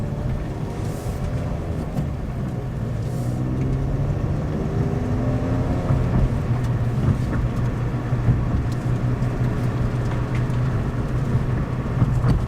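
A Hyundai Veloster N with a manual shift on a short drive gives a steady engine drone and road rumble from inside the cabin, with gear changes partway through and no talking.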